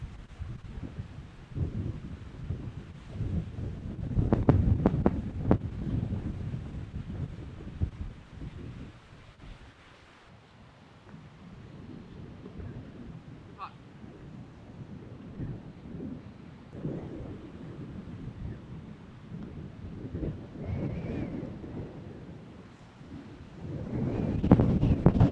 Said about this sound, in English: It is still super windy.